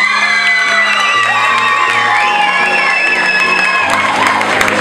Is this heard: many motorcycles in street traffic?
no